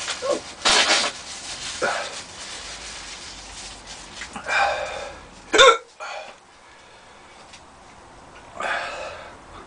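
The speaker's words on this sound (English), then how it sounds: "as you can tell by the hiccups" Hiccups from a man after eating a Carolina Reaper (Cornish) chilli pod, several sharp throaty catches spaced a second or two apart amid breathy rustling, close and fairly loud.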